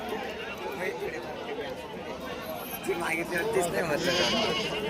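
Goats bleating amid a busy crowd at a livestock market in Shirur taluka, Pune district, with steady chatter and people talking close by.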